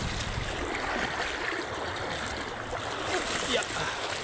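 Wading through knee-deep river water on a stony riverbed, a continuous splashing rush that stays steady and close throughout, with no voices.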